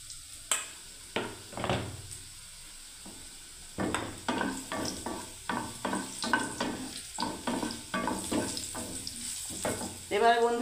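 Cardamom and cinnamon frying in oil in a pan, close and crackling, with a run of rhythmic stirring strokes and short sizzling bursts after a brief pause.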